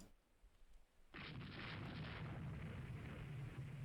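Naval 6-inch gunfire in the ship-combat strategy game Rule the Waves 3: after a quiet start, a sudden loud blast erupts and rolls on as a sustained, roaring rumble that does not fade.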